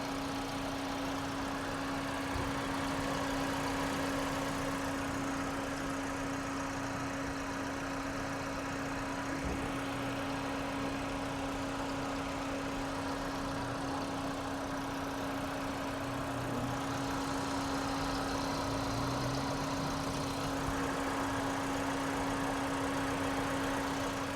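A 2018 Toyota Yaris with a 1500cc engine idles steadily with its air conditioning running, a low, even hum with a constant drone heard up close for the whole stretch.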